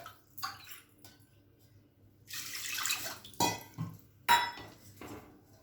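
Water poured from a bowl into a pot of raw rice for cooking, a short splashy pour with clinks of the vessel against the pot, fairly close and moderately quiet, with no talk.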